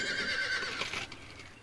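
A horse whinnies in the game Star Stable Online, a steady high neigh with a wavering tail that fades out over under two seconds, with no speech.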